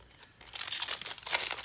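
Yu-Gi-Oh Savage Strike booster packs are torn open by hand, with soft close crinkling and ripping foil in a few brief bursts, quiet and alone.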